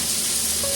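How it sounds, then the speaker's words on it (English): Sausage frying in a pan for jambalaya, a loud, steady sizzle with a brief faint tone near the end. "I don't know if y'all can hear me over this loud sizzling"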